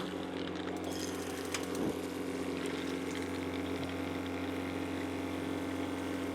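The pump of a propane hot water system runs with a steady, even hum and whir, with faint watery hiss over it, close and constant throughout with no talking.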